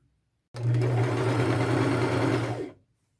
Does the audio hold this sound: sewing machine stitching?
yes